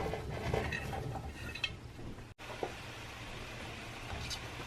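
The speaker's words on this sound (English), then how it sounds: "I'm adding my cauliflower fillets." Cauliflower florets tumble into a pan with soy sauce and spices, producing a brief rattle and clatter of pieces and utensil against cookware, then quieter stirring scrapes, close by without speech.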